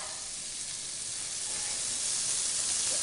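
Onion for baked beans cooks in hot bacon fat, making a continuous, even hissing sizzle, close and steady, with no pauses.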